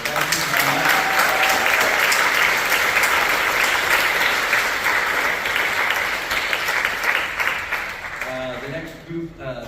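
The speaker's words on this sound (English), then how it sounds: "Can we give a round of applause, everyone, for those guys?" An audience at a high school wind symphony concert gives a loud, sustained round of applause, with dense clapping that thins and fades near the end as a voice begins speaking over it.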